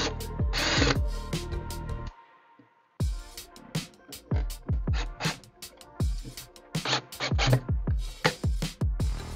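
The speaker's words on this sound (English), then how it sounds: "We're going to plug it into the back of the Garmin mount right here." Network cable plugged into the back of a Garmin mount during a Panoptix LiveScope install, with a run of sharp, close clicks and ratcheting snaps, a brief pause, then more bursts of clicking as it is tightened.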